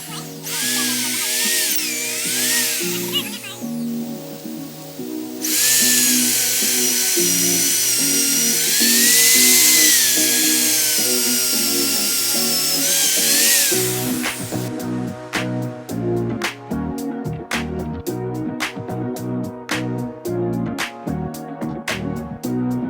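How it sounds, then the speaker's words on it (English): A hammer drill whines loudly in long sustained bursts, drilling through a 6x6 wooden post, pitch rising and falling, then shifts into rapid hammering clatter with background music throughout. "We're using a hammer drill to drill through the 6x6."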